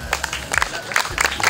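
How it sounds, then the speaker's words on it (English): Pupils from a preparatory school clap during a visit to a fire service station, a short burst of scattered, uneven hand claps from a small group, fairly close, with crowd murmur underneath. "Clap for him."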